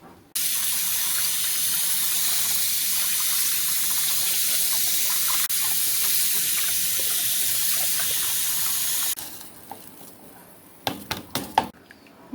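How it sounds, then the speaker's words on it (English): Rice gets rinsed in a sieve under a running tap, a steady loud gush of water for about nine seconds, then it stops and a few clinks and rattles follow. "So I'm going to rinse this first in this sieve."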